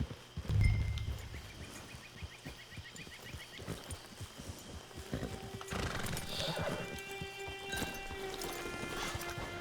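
A horse in the Red Dead Redemption 2 video game whinnies loudly up close, then its hooves clip-clop in a steady walking rhythm with distant ambient sounds behind.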